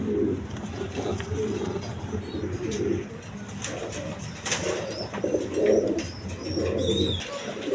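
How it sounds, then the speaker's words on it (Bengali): A pair of Mumbai pigeons coos repeatedly inside a cage, the low throaty calls rising and falling in bursts over steady background noise, with a few faint chirps higher up. "এই যে পোপাগুলো দেখেন এখন আইসা খাঁচার মাঝে মস্তামস্তি করতেছে, ডিম পাড়ার প্রস্তুতি নিতেছে"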